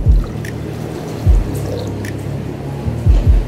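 Coconut water poured into a frozen coconut cocktail gives a soft, steady trickle of liquid, broken by a few low thumps from handling the glass.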